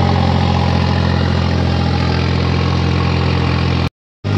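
A 3630 tractor engine runs steadily in third gear low range with a loud, even mechanical drone and deep throb, cutting out for a split second near the end before resuming.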